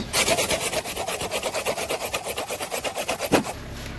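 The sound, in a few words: hand sawing bush branches to make bath brooms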